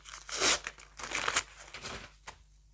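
Paper packet being unwrapped close up, with several bursts of crinkling and tearing paper separated by short pauses, loud and without talk.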